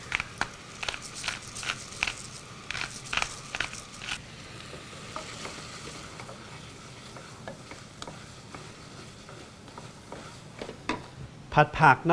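Potatoes, onion and vegetables stir-fried with salt and pepper, a run of rhythmic scraping spatula strokes over a low sizzle, with a brief burst of clattering stirring near the end.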